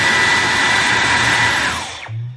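A Dyson cordless vacuum cleaner in boost mode blasts a loud, close, broadband roar that holds steady for two seconds, then winds down quickly as it is switched off.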